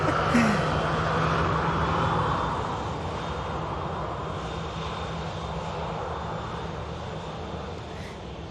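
A TUI aircraft at Manchester Airport gives off a loud, steady engine roar that slowly fades as it moves away, with a faint voice talking briefly beneath it.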